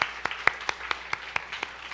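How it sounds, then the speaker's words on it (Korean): Middle-school youth congregation at a church service applauding one another, a short burst of distinct, evenly spaced claps from a small group, crisp and close with no speech. "격려의 박수 한번 서로에게 보내겠습니다"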